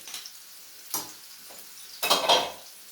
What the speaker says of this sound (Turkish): Şimdi üzerine şöyle bir yemek kaşığı tereyağı alıyorum.